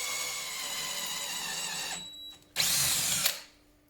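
Power drill boring a slightly undersized hole for a snowmobile ice scratcher on a Yamaha Nytro, a steady high whine for two seconds, a brief pause, then a harsher, louder burst as the bit bites before spinning down.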